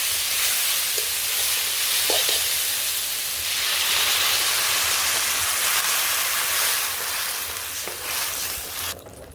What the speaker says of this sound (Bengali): এটাকে ভাজি হয়ে গেছে এখন জল দিয়ে দিই